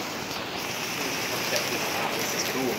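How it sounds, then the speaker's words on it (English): A heavy rainstorm on a city street in Cedar City, Utah, with big raindrops making a dense, constant hiss and patter, close and steady throughout. "Those are some big raindrops, man."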